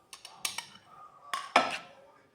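A spoon clinks and scrapes against a bowl while yeast, sugar and milk are mixed for homemade chapati bread, giving a series of sharp, close metallic taps and brief stirring scrapes with no talking.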